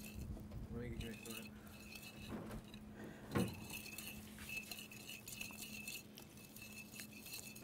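Thyme, salt, pepper and oil being mixed in a bowl, with light clinks and scrapes of a utensil against the dish and a steady faint hum behind, one sharper knock near the middle.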